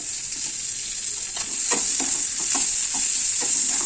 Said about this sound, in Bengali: পেঁয়াজ রসুনটা আমি গাওয়া গিয়ে মানে বাটারে ভেজে নিচ্ছি তারপর পেঁয়াজ কুচি দিয়ে দিলাম